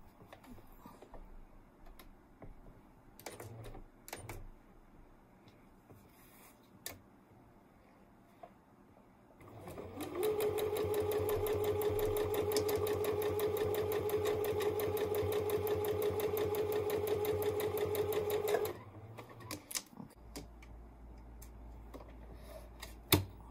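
A sewing machine stitches bias tape for pillow piping, running loud and steady for about nine seconds after quieter handling sounds, then stopping.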